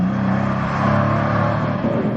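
The 4-litre twin-turbo V8 of a Mercedes-AMG C63 Estate runs nearby with a deep, steady, throaty drone, swelling slightly mid-way as the revs rise gently, with no voices over it.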